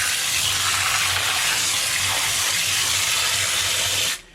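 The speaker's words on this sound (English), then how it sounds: "And I'm filling it up with water right now. Just a regular garden hose water." A regular garden hose pours water into the brine tank of a Fleck 5810 XTR2 water softener, half-filled with salt pellets, making a loud steady gushing rush that cuts off abruptly near the end.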